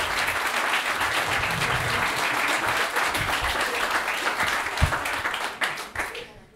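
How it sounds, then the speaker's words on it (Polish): Audience at a stand-up comedy show applauding loudly, dense steady clapping that holds for several seconds and then tapers off near the end. "Powitajcie go wielkimi brawami."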